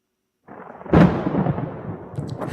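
A single loud crack of thunder after lightning, bursting in suddenly after silence, then a rolling rumble that slowly fades over the next second or so.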